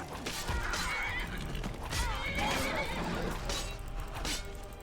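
A Daedric horse in Skyrim whinnies and neighs in several shrill, wavering bursts, close up and loud over a rumbling mix of game noise and clattering hooves.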